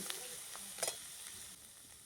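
Onion paste fries in a pan with a soft, steady sizzle, broken by faint stirring scrapes, heard alone at low volume for an egg curry made with ground spices.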